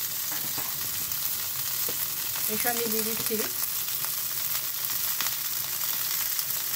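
Boiled potatoes and parboiled green peas sizzle steadily in a pan after ginger has been fried, a continuous close frying hiss while someone speaks briefly over it.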